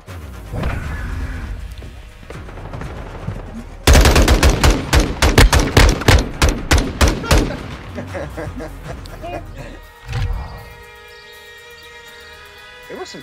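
Video game gunfire: a rapid volley of loud, sharp automatic shots over several seconds, preceded and followed by quieter game sounds and rumbling, with a voice talking faintly in the background.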